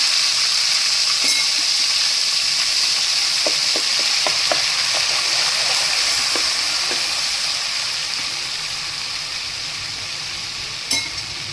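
Asafoetida and ginger-chili-garlic paste hit hot oil with a loud, continuous close sizzle, broken by a few light stirring clicks, the frying easing slightly toward the end.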